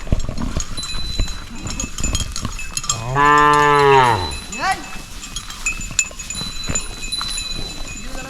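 Cattle being herded out to forest pasture in the Konkan countryside give one loud, drawn-out moo midway, with light bell clinks and outdoor rustle around it and voices briefly in the background.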